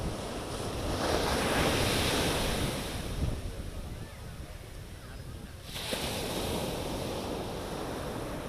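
Sea waves rolling onto Marina Beach in Chennai, a broad rushing surf that swells and recedes with strong wind buffeting the microphone, loud and continuous with a brief lull midway.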